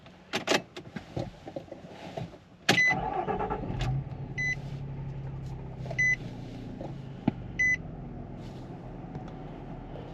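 A 2013 Nissan Xterra Pro4X with a six-speed starts with a sharp crank that settles into a quiet idle, followed by several short electronic chimes and clicks from the cabin.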